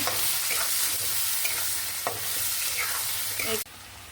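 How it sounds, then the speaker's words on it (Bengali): Potatoes fry in a pan with salt and turmeric, a close, steady sizzle punctuated by repeated scraping and stirring strokes, until it cuts off sharply near the end, with no one talking. "এটাকে এখন সুন্দর করে একটু ভেজে নেব"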